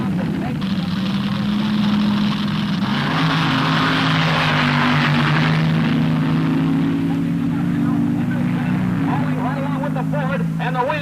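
Engine roar at a 1960s Ford drag racing event, a steady loud drone that swells and shifts pitch as the car approaches the line, with an announcer talking over it.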